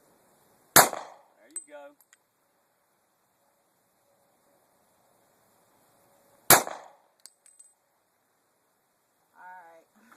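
Two sharp, loud pistol shots from a .40 caliber Sig handgun, spaced about six seconds apart, with brief talk in between and after.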